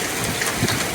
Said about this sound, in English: Look at that torrential rain coming down,